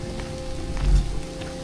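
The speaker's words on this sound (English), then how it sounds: "We're caught in the middle of a downpour." Heavy rain pours down on a hiking trail as a steady close hiss of drops, with a short low rumble swelling near the middle.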